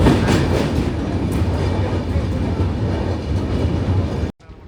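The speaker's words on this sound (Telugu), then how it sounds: "మా ట్రైన్ అయితే విజయవాడ దగ్గరికి అయితే వచ్చేసింది" A passenger train on the Tirupati to Vijayawada route runs loud and close near Vijayawada over the Krishna river, with a continuous roar and rhythmic wheel clatter that cuts off abruptly at the end.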